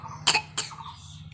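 A child coughs twice in quick succession, close and fairly loud, with a faint steady hum underneath.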